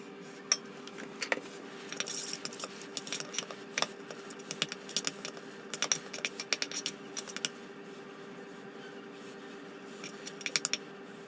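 A spoon works Marmite into a tofu burger mixture in a bowl, giving soft scraping and irregular light clinks that come in bursts, close and fairly quiet, with no talking.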